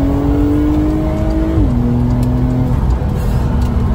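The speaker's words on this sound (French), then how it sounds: "la sonorité du flat 6" Porsche 911 (992) Cabriolet with a flat-six engine driving on small roads, a loud close steady engine drone with its pitch shifting down through gear changes, no talk.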